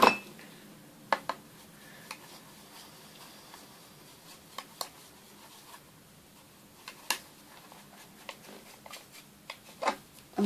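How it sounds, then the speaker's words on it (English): Paint colours, including a little yellow ochre, mixed in a dish with a tool, giving soft scraping and scattered light clinks at irregular moments, close and quiet. "I'm going to keep mixing until I get colour I want."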